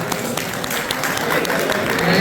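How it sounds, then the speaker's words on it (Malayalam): Audience clapping at a silver jubilee celebration party in Rome just before a game starts, a steady wash of applause that swells slightly toward the end, with voices mixed in. "എല്ലാവരും ഒന്ന് കൈയടിച്ച്."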